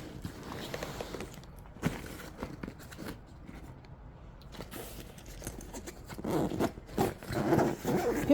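An Evergoods CTB 26 backpack's YKK zipper is pulled along the main compartment. It gives soft, quick rasping and rustling close by, quiet at first and then louder and busier toward the end, with no voices.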